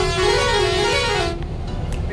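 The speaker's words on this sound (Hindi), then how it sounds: "तो इसको मार दे हॉर्न।" Vehicle horn honking on a mountain road as the car runs downhill, a loud sustained blare lasting over a second, then fading into road and engine noise.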